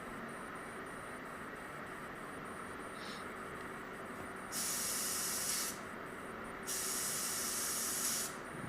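A 3M Accuspray spray gun spraying paint in wide fan-pattern spray-outs: two loud, close bursts of hissing air, each lasting about a second, over a steady background hum and hiss, with no talking.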